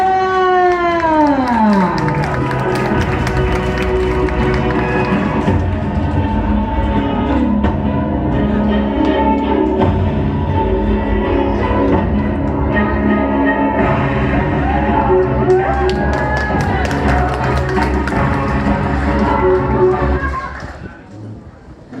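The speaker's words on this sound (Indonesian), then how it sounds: "Kita beri aplaus yang meriah." A seminar audience applauds and cheers in a dense, continuous wash of clapping and crowd noise that holds steady for about twenty seconds, mixed with voices and a tonal backing, before fading out at the end.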